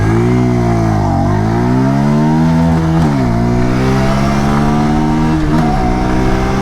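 A 2023 Bajaj Pulsar 125 Fi motorcycle accelerates hard in first gear, its engine note loud and close, rising in pitch through repeated climbs with brief dips between surges.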